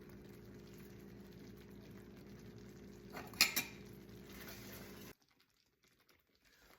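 A spoon stirs a simmering pork chop sauce, seasoned with fresh ground pepper, in a pan, with a steady low bubbling bed, a couple of brief clinks of utensil against the pan midway, then sudden near-silence.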